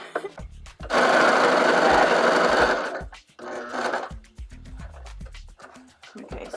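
Sewing machine stitching a bell sleeve onto a jacket, a loud sustained whirring run of about two seconds, then a shorter burst, with handling knocks and pauses between.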